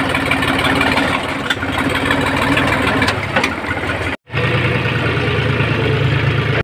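Tractor diesel engine idling on a farm, a steady close chugging drone with a brief cut partway through before it resumes just as loud.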